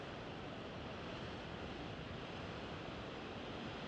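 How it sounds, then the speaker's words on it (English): Ocean waves smash against rocks below sea cliffs at Trevose Head on the Cornish coast, a dense, continuous roar of surf mixed with wind noise that stays loud and steady throughout. "the waves are smashing up against the rocks and they're causing a lot of sea mist"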